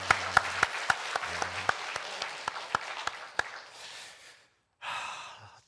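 A church congregation at a Sunday service gives the choir a round of applause, scattered sharp claps fading out over a few seconds, with sighs and breathing nearby and a brief murmur after a pause.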